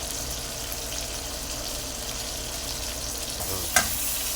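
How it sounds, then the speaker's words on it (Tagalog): Onion, garlic and tomato sautéing in a pan for adobong bangus, a steady close sizzle with a faint watery bubbling and one sharp clink near the end. "Ginisa na ni Master Chef yung sibuyas. Saka bawang, kamatis."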